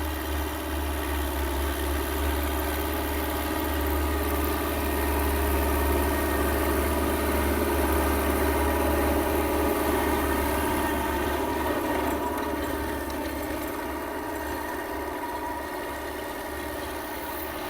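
A new New Holland 850 tractor pulls an FDI 54-cutter rotavator in third gear, a loud, steady diesel drone with a deep rumble and a constant churning whir from the rotavator, close and unbroken throughout.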